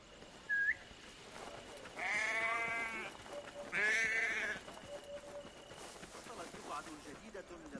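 Two loud sheep bleats in the video game Assassin's Creed Mirage sound close by, one after another, over a low background murmur with a few faint chirps.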